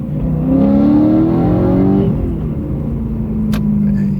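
A BMW M3 with the S65 V8 engine revs up loudly and close, its rising howl sweeping upward and then settling back into a steady idle, with no one speaking.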